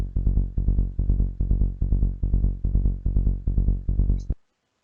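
A distorted psytrance bass synth built in a wavetable synth, pulsing in fast, even, loud repeated notes with a short decay on each, then stopping abruptly.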